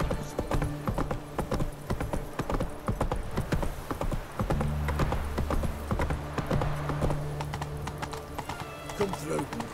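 Roach, a horse in The Witcher 3 video game, trotting with steady rhythmic hoof clip-clops on a hard path, close and clear, under someone talking and background game sounds.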